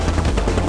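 Fast, dense cannon fire in the platform game Hell Yeah! Wrath of the Dead Rabbit, a loud, continuous burst of rattling shots lasting under a second, with no voice.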